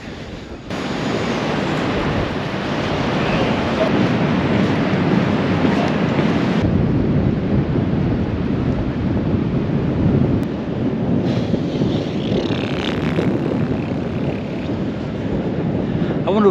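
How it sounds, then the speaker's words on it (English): Strong wind buffets the microphone at the seaside in Nettuno, Italy, a loud continuous roar with surf mixed in, steady throughout with gusting swells and no speech. "Wow, it's windy today."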